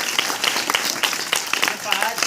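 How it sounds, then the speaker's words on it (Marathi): A group of schoolchildren claps together at a Gita Jayanti school gathering, a steady patter of many quick hand claps with voices mixed in. "टाळ्या वाजवा."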